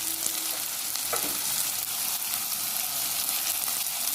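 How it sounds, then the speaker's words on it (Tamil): Peas and chopped vegetables sauté in a hot pan for vegetable biryani, giving a close, steady sizzle with light stirring throughout. "பட்டாணி எல்லாத்தையும் இதில் சேர்த்து வதக்கணும்."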